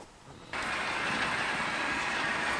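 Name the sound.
model railway trains running on layout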